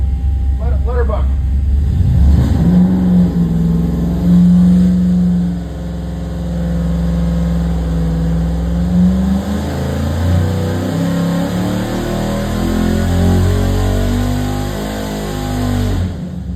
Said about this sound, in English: Notice how fast the engine sounds really robust, really crisp.